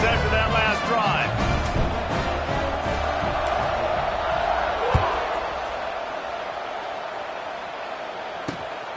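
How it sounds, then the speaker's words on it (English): A football stadium crowd roars continuously during a kickoff, a broad and steady wash of distant cheering with a few sharp thumps, and it fades slightly toward the end. "this crowd is feeling themselves after that last drive"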